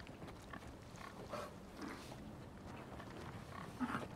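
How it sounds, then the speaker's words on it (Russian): Pigs on a farm in Resident Evil 4 Remake giving low grunts, faint and intermittent against a quiet ambient background, with a slightly louder snort near the end. "давайте пройдем через коровок, правильно? И через хрюшек."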